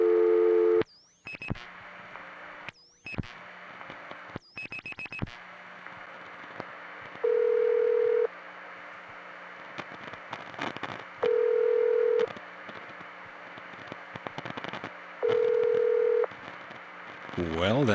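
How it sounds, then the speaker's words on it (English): A modern ringback tone on a 1976 telephone tie-line: three steady one-second tone bursts spaced about four seconds apart, following earlier dialing clicks and tones, heard clearly over faint line hum. "that's a modern tone ring, but with that timing, 1 second on, 4 seconds off"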